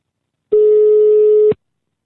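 A single steady ringback tone on a telephone call sounds once for about a second, clear and fairly loud, with silence before and after.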